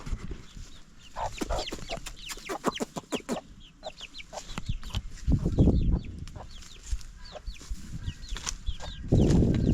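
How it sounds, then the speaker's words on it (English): Chickens cluck and squawk in a Kenyan village, a busy run of sharp, close clucks with some wing flapping and louder bursts, outdoors with no talking. "That's African chicken, guys."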